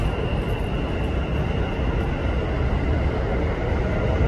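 A Keikyu train pulls into Yokohama station with a loud, steady low rumble of wheels and motors, close by and continuous, with no voices.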